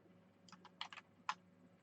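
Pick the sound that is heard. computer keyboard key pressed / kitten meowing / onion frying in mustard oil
computer keyboard key pressed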